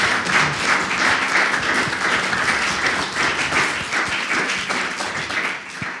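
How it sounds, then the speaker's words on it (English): A seated audience at a New York Studio School talk applauds with steady, dense clapping that stays loud for several seconds. "Round of applause for that wonderful conversation."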